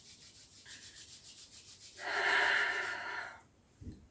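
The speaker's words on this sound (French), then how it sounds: "On frotte les mains." Palms rubbing briskly together during a gentle winter yoga session, a soft swishing friction that swells into a louder, steady rub for about a second and a half, then fades, with quiet breathing around it and no talk.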